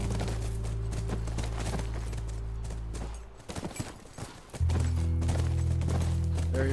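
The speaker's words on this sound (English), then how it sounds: "Look, by the ranch. That's our horse." Horse hooves clip-clop near a ranch in The Last of Us video game, a run of rhythmic thuds over a steady low hum that briefly drops out and then returns louder.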